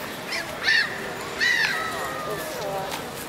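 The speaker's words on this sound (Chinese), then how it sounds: "只有这个海鸥在这乱飞呀" Seagulls call several times across an open square in Stockholm, with two louder cries early on and fainter ones later, heard over a noisy outdoor background.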